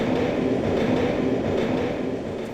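TGV high-speed train in Tomb Raider 3 Remastered, a loud continuous rumbling roar of the passing train with a steady rolling rhythm and no voices.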